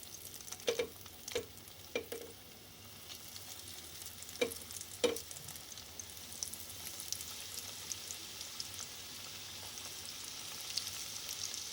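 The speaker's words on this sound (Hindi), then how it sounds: "चिकन रेशा कबाब को शैलो फ्राई करेंगे मीडियम आंच पर।" Chicken resha kababs shallow frying in hot oil over medium heat give a steady, soft sizzle, with a few sharp clicks of utensils near the start and no talking.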